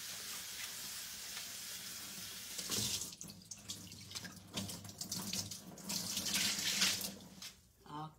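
Tap water runs steadily into a sink while something is rinsed, the flow splashing and shifting in strength as the item is moved under it, with no talking.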